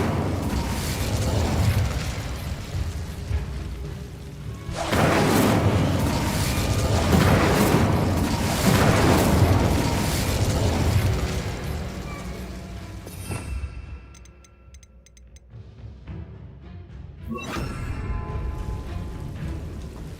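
An Incendio fire spell blast in Hogwarts Legacy on PC, a sustained roaring burst of flame with crackling and whooshing, followed by mechanical clanks, a brief lull and another fiery surge, loud and close.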